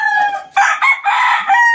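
An F1 bulik gamefowl rooster crows loudly and close, a single full cock-a-doodle-doo with a rising opening and a long, strained, wavering finish.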